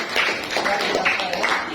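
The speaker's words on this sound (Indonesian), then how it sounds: "Berikan tepuk tangan untuk Ceril ya." Students in a classroom clap for a group that has just finished a presentation, a short burst of quick, scattered hand claps close by at fairly high volume.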